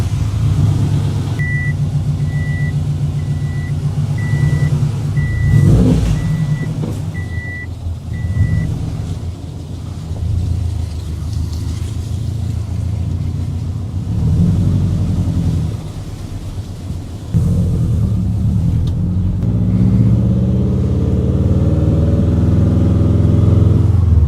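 A 500 HP Subaru WRX on the road, its engine giving a steady loud rumble throughout, with a repeating electronic beep chiming through the first several seconds and the engine note rising again near the end.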